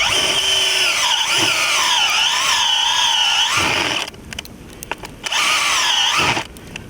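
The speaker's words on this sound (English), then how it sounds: "So I use a power drill to do my holes." A power drill boring holes into hard ground whines loudly in two long bursts, its motor pitch rising and dipping as it bores, with a brief pause between runs.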